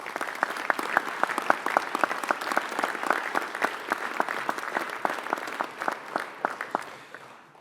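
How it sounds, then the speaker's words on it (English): Audience applause at an academy graduation, crisp individual claps in a quick irregular patter from a moderate crowd, fairly close and steady before thinning slightly toward the end. "please, Jake, one more round of applause, please."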